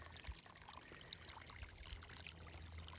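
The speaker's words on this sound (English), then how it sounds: "I really give it a lot of water." Water poured to flood the base of a newly planted apple tree, a faint, steady outdoor trickle and gurgle with a few soft low thumps.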